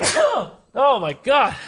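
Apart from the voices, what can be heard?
sneeze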